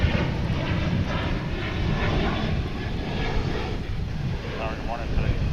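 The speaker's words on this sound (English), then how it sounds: "Here goes another Sun Country. Just caught it as it was lifting off there." A Sun Country jet lifting off at Dallas/Fort Worth International Airport, heard as a loud, continuous engine roar with rumbling low end and wind buffeting, with a voice speaking over it.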